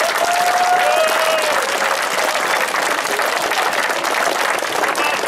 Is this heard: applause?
yes